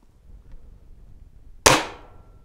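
A spring-piston air rifle fitted with an Air Venturi Tune-In-A-Tube fires a single sharp shot after a quiet lead-in, a close, dull thud with a quick decay and no lingering buzz or twang.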